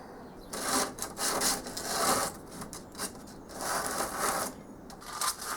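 Sandpaper scrapes across a wooden casting pattern in a workshop, making repeated rough back-and-forth rasping strokes. The strokes are close and fairly faint, with short pauses between them.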